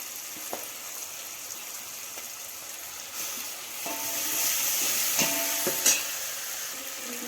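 Onions and tomato frying in a pan for a breakfast bonda soup, with a soft continuous sizzle and occasional scraping stirs and clinks of a spoon, close and fairly quiet.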